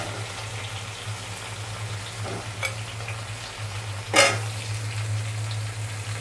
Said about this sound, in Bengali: তেলের সাথে আলু এবং পটলগুলোকে আমি ভালোভাবে ভেজে নেব।